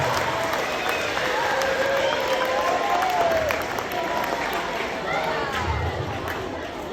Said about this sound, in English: Give a round of applause for Therese as well